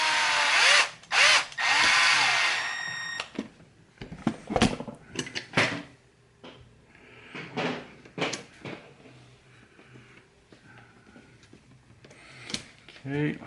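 A power drill whirs in brief bursts, driving a screw on an Axial SMT10 custom monster mud truck build, between clicks and handling noises of parts and tools.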